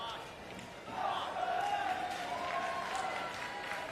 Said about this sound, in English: The Brazilians cheer.